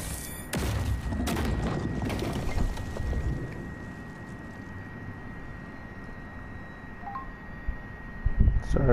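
A mobile phone goes off during a Shadow of the Colossus gameplay recording, giving a steady electronic tone that runs beneath the game's booming ambience and brief bursts of action for most of the stretch.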